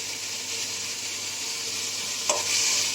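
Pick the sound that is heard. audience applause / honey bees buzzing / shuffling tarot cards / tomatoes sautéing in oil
tomatoes sautéing in oil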